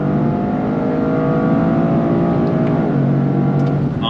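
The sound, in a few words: sports car engine revving, fast downshifts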